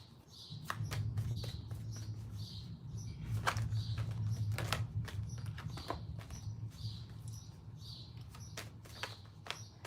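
Birds chirp repeatedly outdoors, short bright calls over a steady low rumble of background noise; no one speaks.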